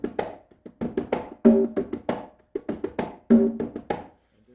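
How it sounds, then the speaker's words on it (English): A tumba drum plays the bottom part of a bembe 6/8 rhythm, a close, dry run of hand strikes in a lilting repeating pattern with some ringing tones, alone with no talk. "One, the bottom part, or the tumba part, is like this."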